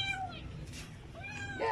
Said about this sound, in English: And I even have a Siamese over here.